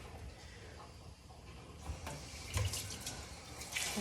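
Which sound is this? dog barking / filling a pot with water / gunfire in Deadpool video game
filling a pot with water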